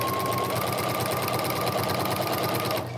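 Close and even, a sewing machine with a walking foot hums steadily while stitching binding onto a quilt, running without a break until it stops just before the end.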